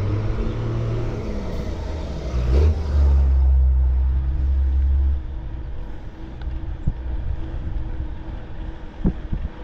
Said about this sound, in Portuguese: Isso, caminhão.